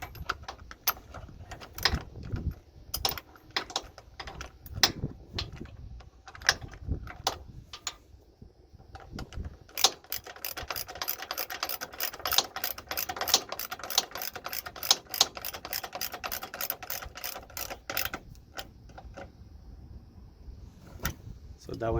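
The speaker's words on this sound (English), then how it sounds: "you can start by tightening all the bolts." Hand tools work the bolts on a Freightliner Cascadia coolant reservoir, giving close, uneven clicks and metallic rattling that turn into a dense, rapid ratcheting burst midway before easing back to scattered taps.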